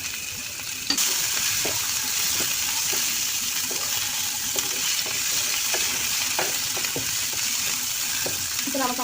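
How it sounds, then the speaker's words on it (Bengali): Eggs stirred into frying masala for an egg bhuna curry: a constant close sizzle broken by regular spoon scrapes and taps against the pan, with no talking. "এরপরে ডিমগুলো দিয়ে দেবো, আবার একটু নাড়াচাড়া করবো।"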